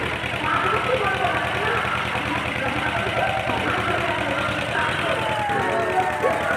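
A motor boat engine idles and chugs steadily and close by on a river in Malda, giving a continuous rhythmic drone for the whole stretch, with voices faintly under it.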